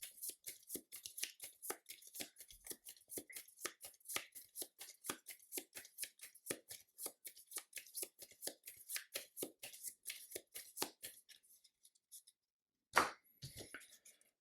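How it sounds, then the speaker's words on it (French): A deck of Marvel Champions cards is shuffled by hand in a long run of rapid, rhythmic riffles, close and crisp, before slowing to a few final taps and shuffles. "Et je dois remélanger mon deck."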